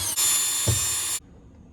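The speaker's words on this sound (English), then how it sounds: "just screwing the screw in." Power drill driving a screw into the bulkhead of an Iveco Daily campervan build, one steady high whine for about a second with a brief thud partway, then a sudden stop.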